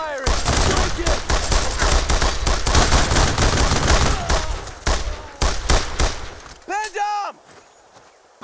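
Sustained rifle and machine-gun fire rattles loudly in a World War II squad battle in Brothers in Arms: Road to Hill 30, dense bursts continuing for several seconds before cutting off into a few ringing echoes and silence.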